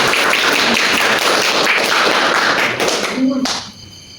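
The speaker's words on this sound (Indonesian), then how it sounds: "Tepuk tangannya mana untuk kelompok 3?" A classroom of students claps for group 3 after a lesson on how to perform prayer, loud, close, busy handclapping with some tapping and thuds, tapering off near the end as a voice briefly sounds.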